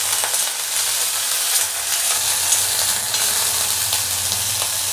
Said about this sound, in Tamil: பூண்டு, இஞ்சி, 3 பச்சை மிளகா, ஒரு கொத்து கருவேப்பிலை, இது எல்லாத்தையுமே லைட்டாக வதக்கி எடுத்துடலாம்